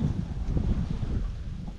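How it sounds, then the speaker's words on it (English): Strong wind gusting outdoors on a cold day of deer hunting late in gun season, a steady low roar buffeting the microphone throughout, with no talking. "Dude, it's freaking windy."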